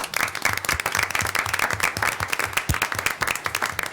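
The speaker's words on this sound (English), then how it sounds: "Let's give them a round of applause." A room at a city commission meeting fills with a steady round of applause, dense clapping from many people sustained for several seconds at close range.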